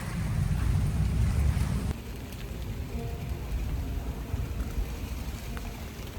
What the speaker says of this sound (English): she's starting to get wet because it's raining out here